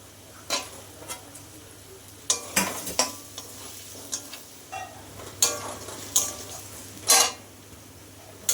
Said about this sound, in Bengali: এই দেখো আমি এবার এই পেঁয়াজগুলো দিয়ে দেবো এই তেজপাতাগুলোও দিয়ে দেবো